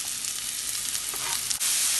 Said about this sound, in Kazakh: Шампиньондарды салдық. Енді майда қуырып аламыз.